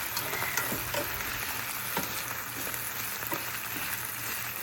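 Potatoes for a breakfast hash fry in a pan with a steady, close sizzle and crackle, punctuated by a few light stirring scrapes, with no talking.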